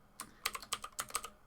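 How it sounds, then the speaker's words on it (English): Fast keystrokes on a computer keyboard while typing a Python command in a Linux terminal, about eight close, crisp clicks in quick uneven bursts. "So to run this program, simply type in Python 3 space"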